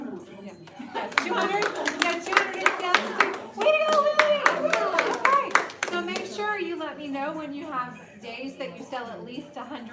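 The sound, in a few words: audience applauding salespeople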